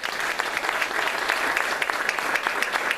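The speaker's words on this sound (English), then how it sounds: "one last round of applause and we're done." An audience claps together in steady, dense applause, close and loud for the whole stretch, with no voices over it.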